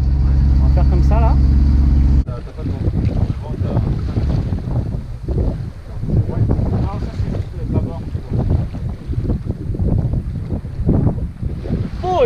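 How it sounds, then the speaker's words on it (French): Wind gusts roar across the microphone on a sailboat under sail, a loud rough rushing that rises and falls, with a brief steady tone at the start and voices talking over it. "Enfin, le vent s'est levé."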